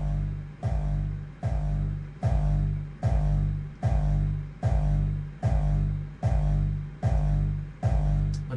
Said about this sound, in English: and tweak the tone of the kick